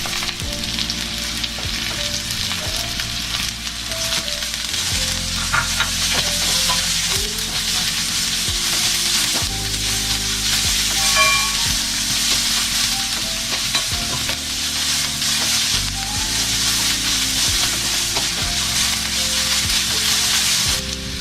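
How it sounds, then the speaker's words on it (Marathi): Chopped onions sizzle loudly in hot oil in a pan for Masala Maggi, a dense continuous frying hiss with occasional stirring clinks, close and steady with no talk. "आता कापलेले कांदे टाकतोय."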